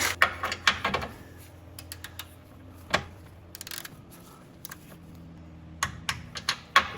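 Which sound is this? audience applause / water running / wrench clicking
wrench clicking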